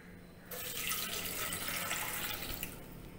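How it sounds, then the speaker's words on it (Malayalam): Water is poured into a pot to brew blue tea from butterfly pea (sanghupushpam) flowers. A steady, hissing splash starts after a brief quiet moment and runs on evenly for about three seconds, with no talking. "വെള്ളം ഒഴിക്കണം എന്നിട്ട് തിളപ്പിക്കണം"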